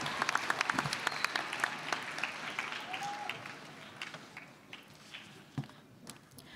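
A youth conference audience applauds an artist, brisk clapping from a crowd that is dense at first, then thins into scattered claps and fades toward the end.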